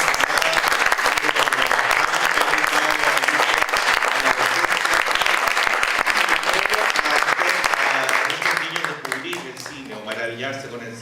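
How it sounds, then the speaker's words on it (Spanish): Audience applause at a gathering honoring filmmaker and educator Alicia Vega, a dense, loud, sustained wave of clapping from many hands that tapers off toward the end while a voice begins to speak. "pedirle un último aplauso"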